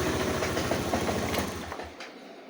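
A Yamaha Majesty 400 scooter engine with a spark problem idles nearby in a steady low chugging rhythm, then fades away over the last half-second.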